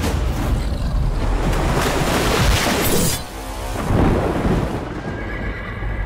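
A horse whinnies loudly in a movie trailer, a long, close neigh over a dense roar of wind and surf-like rumble, with a brief dip midway before the noisy bed swells again.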